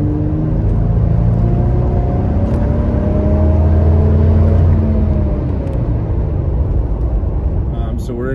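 A car with a Pedal Commander throttle controller, switched into sport mode, drives with a steady engine rumble and drone from inside the cabin, close and loud, easing slightly toward the end, with someone talking over it.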